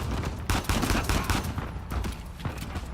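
Rapid bursts of gunfire in the video game Uncharted 4: A Thief's End, dense overlapping shots and volleys crackling close and loud for the whole stretch with no talk.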